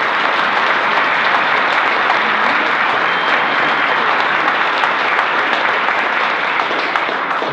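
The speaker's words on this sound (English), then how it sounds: "how about we give Harriet a round of applause?" Wedding guests clap loudly and continuously, a close, dense burst of applause holding steady for several seconds with no speech over it.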